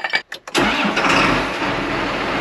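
A late-1990s 8400 tractor's engine cranks briefly, catches and settles into a loud, steady idle right up close, with no voices present.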